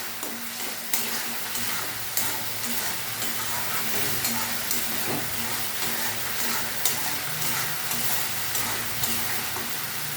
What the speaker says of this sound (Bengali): আর একটু কষিয়ে নেবো যাতে একটু তেল বেরোয়।